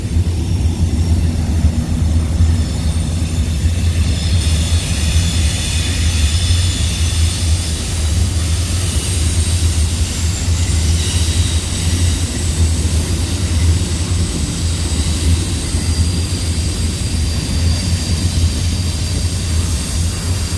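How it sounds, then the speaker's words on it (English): A loud, steady low rumble of a long heavy train rolling past continuously in Yuma, Arizona, with a constant drone and metallic hiss that never lets up. "That's a long train coming through."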